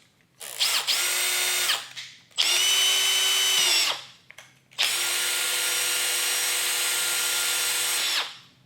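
A Makita 18V brushless cordless hammer drill whirs in three bursts, the last one long and steady, each spinning up and winding down, with a faint ratcheting buzz of the clutch underneath.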